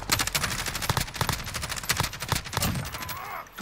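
Rapid bursts of Kilo 141 assault rifle fire with a 100-round magazine in Modern Warfare, loud sustained automatic volleys with brief pauses, filling the moment without speech.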